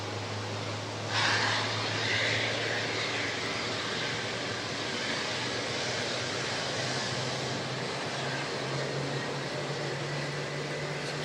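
A Jetstar airliner's engines start up at Auckland Airport, heard as a steady, moderate whine and rumble with a steady hum under it. A brief rise in pitch and level comes early on, and no one speaks.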